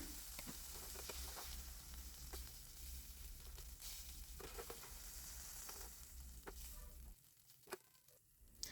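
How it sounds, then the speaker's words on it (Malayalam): Prawns frying in oil over a medium-high flame for a Kerala-style prawn fry, a quiet, steady sizzle with scattered crackles and pops throughout, dropping away near the end to leave a few isolated spits. "മറിച്ചിട്ട് 3-4 മിനിറ്റ് നേരം മീഡിയം ഹൈ ഫ്ലെയിമിൽ ഫ്രൈ ചെയ്യുക"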